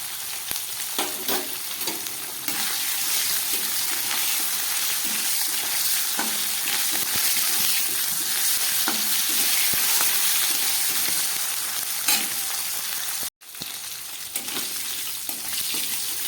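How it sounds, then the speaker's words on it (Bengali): Hilsa fish head frying in hot oil gives a steady, loud sizzle with occasional crackles and spatters, close and continuous, with a brief break near the end. "খুব ভালো করে ইলিশ মাছের মাথাটা আমি ভেজে নিলাম"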